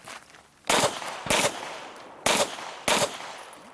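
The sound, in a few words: pistol gunshots at IDPA shooting match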